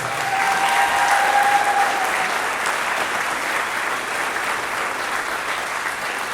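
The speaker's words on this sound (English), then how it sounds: "Let's have one more round of applause for concert orchestra." A school winter concert audience applauds a concert orchestra, sustained full-hall clapping that holds steady and slowly thins toward the end, with no talk.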